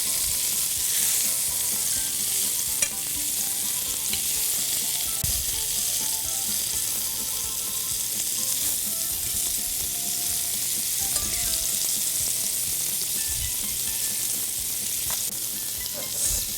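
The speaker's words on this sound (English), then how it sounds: "then we're going to finish the frying" Meatballs fry in a pan with olive oil, a steady, dense sizzle holding constant and close for the whole stretch, with a few soft bumps as they are moved about.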